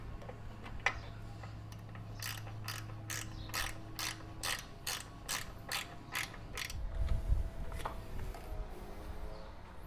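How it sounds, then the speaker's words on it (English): A hand socket wrench ratchets an Allen bolt on an Indian Scout Bobber motorcycle seat mount, a quick series of about a dozen crisp, evenly spaced clicks, close and clear, with faint shop noise behind. "I'm going to go ahead and grab a socket wrench for this Allen bolt."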